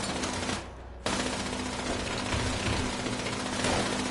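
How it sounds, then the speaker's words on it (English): Rapid automatic gunfire in Fallout 76 chatters loudly and continuously, broken by one brief pause before the shooting resumes. "Okay, who's shooting at what out here?"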